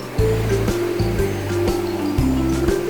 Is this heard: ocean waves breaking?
yes